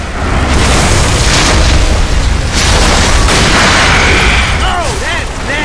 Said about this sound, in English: Keep shooting till it moves!